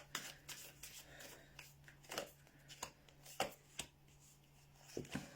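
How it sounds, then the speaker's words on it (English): Tarot cards riffle and snap in a series of quick, crisp shuffles, close up and fairly quiet, with a low steady hum underneath. "These are so hard to shuffle."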